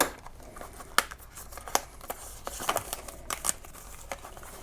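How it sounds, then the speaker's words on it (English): An unboxing knife slicing open a cardboard box, a series of sharp, close cuts and scrapes mixed with crinkling packaging in irregular bursts. "unboxing knife on deck. Go ahead and get this cut open."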